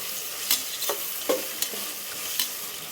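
Tomatoes and onions for mutton biryani sauté in a pan, giving a low, steady sizzle broken by several sharp spoon scrapes and stirring knocks at irregular intervals, close and with no voices.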